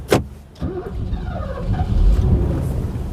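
A Mercedes W126 car running on LPG starts with a sharp click, then its engine settles into a low, close rumble.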